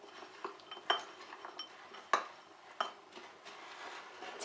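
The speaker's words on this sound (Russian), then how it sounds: "смешиваю орехи и шоколад в отдельной мисочке" A spoon clinks against a small bowl while chopped nuts and chocolate are stirred with a little flour, faint scraping broken by several sharp, distinct metallic taps at irregular intervals.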